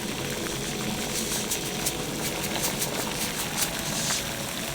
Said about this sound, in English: we have our water boiling